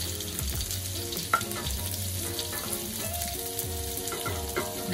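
Onions sizzle steadily in a hot pan for Filipino chop suey, a continuous close frying hiss with light stirring and utensil scrapes, a brief sharp clink partway through, and no talking.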